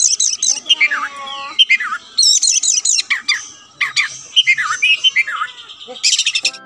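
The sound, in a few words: kacer bird (oriental magpie-robin) singing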